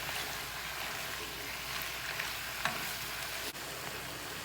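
Meat for igado sizzles steadily in a pan, a continuous close frying hiss with a few small pops and stirring clicks.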